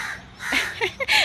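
A crow caws near a rooftop garden, giving a few short, harsh calls in quick succession that rise at the end, close and fairly clear against quiet surroundings.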